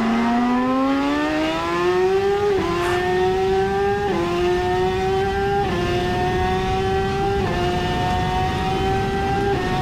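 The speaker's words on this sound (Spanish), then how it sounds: "es un onboard que yo no había visto hasta ayer, sobre una shooter MMX500" Onboard sound of a Shooter MMX500 250GP two-stroke racing motorcycle, a loud close engine howl rising in pitch through several gears, each upshift briefly dropping the tone before it climbs again.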